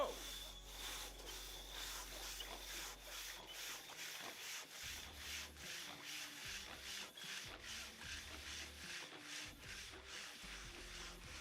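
Saws bite through timber at a timbersports championship in Australia, a rapid rhythmic rasping of strokes with a faint crowd in the background and no talk over it.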